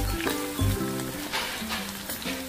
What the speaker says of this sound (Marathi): मोहरी आणि लसूण चांगलं तडतडलंय